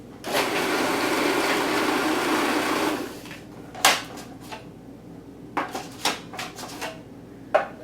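A food processor whirs steadily for about three seconds while pulsing pastry dough for an apricot tart, then stops, followed by a few scattered clicks and knocks of the machine and bowl nearby.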